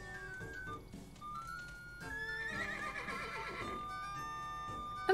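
A horse neighs and whinnies in Animal Crossing, with harmonic whinny calls rising over light game music and a bright chime at the end.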